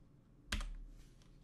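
A single computer keyboard key press in a video editor gives one sharp, close click against a quiet background.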